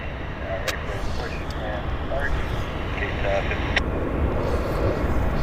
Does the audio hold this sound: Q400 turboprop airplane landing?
yes